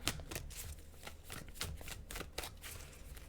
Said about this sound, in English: I'm going to pull final 3 cards here.